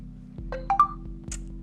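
A Tecno Camon 15 phone plays a brief startup chime of a few quick, bright tonal pings, faint and close over a low steady hum.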